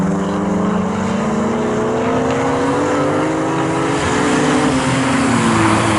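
A race car in the 750MC Tegiwa Roadsports series comes into the pit lane at Snetterton, its engine droning with steadily rising pitch and growing louder as it approaches, with no talk over it.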